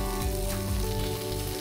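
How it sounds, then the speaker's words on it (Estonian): White grilling cheese made in Estonia fries in a pan, giving a loud, continuous close-up sizzle with no talking. "Lasen praadida ühelt poolt ja teiselt poolt."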